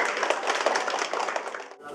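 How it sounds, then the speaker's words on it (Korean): Audience applause welcoming a speaker at a school alumni reunion ceremony, a dense burst of clapping from a crowd that fades out near the end. "큰 박수로 모셔주십시오."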